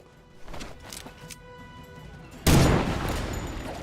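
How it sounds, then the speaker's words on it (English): A single loud gunshot in Marvel's Midnight Suns lands abruptly after quieter background ambience and is followed by a lingering, echoing tail. "A single shot."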